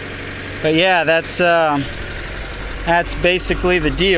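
A 2002 Honda S2000 engine idling steadily in the background, low and constant, while someone talks over it close up.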